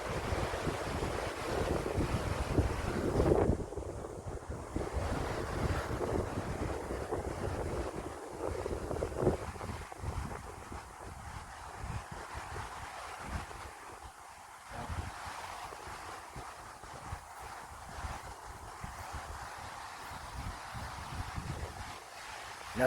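Wind buffets the microphone at a lake, a loud, gusty roar over lapping water that shifts in strength and eases off toward the end, with no voices.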